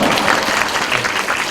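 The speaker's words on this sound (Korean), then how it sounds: "박수 한번." A short, loud burst of dense applause from an audience at a high school admissions information session, many hands clapping at once for little more than a second.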